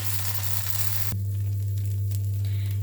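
Oats dosa fries on a pan with a little ghee, making a soft close sizzle over a steady low electrical hum; the sizzle drops suddenly partway through and continues faintly.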